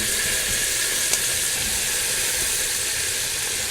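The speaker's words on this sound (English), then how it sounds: "Okay, we are ready to add our collard greens." Collard greens hitting hot oil in a pan give a steady, broad sizzling hiss that runs unbroken and fairly loud throughout, with one brief crackle near the start.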